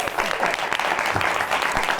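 An audience claps in appreciation for a woman, a brief, lively burst of applause with individual sharp claps standing out from the crowd sound, moderately loud and close.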